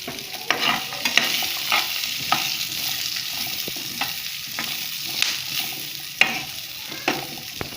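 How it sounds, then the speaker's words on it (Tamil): Chopped onion and four garlic cloves sauté in a pan for a greens chutney, a steady close sizzle broken by regular sharp scrapes and taps of the spoon; no one speaks. "வெங்காயமும் பூண்டும் நல்லா வணக்கிக்கலாம்."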